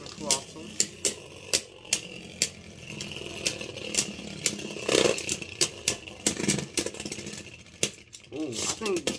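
Beyblade spinning tops, Mirage Fafnir and Kolossal Helios, clash and scrape in a plastic stadium, with sharp metallic clicks and rattling hits repeating irregularly under an ongoing grinding whir, close and fairly loud, while a voice talks over it.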